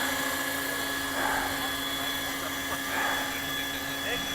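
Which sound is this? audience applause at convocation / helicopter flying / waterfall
helicopter flying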